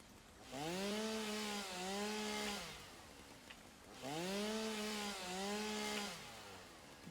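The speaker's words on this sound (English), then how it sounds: "maybe a little bit of chainsaw action here" A chainsaw in the factory-building video game Satisfactory revs up twice: each time a buzzing, rising then settling engine whine holds for about two seconds before dropping away, fairly quiet and with no talk.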